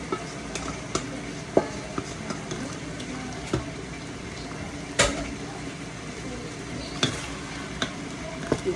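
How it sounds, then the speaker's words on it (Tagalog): Beef tapa marinade poured into a frying pan and stirred, a low sizzle and bubbling under scattered clicks and scrapes of a utensil against the pan. "ilalagay ko na po itong sabaw ng marinate natin kanina"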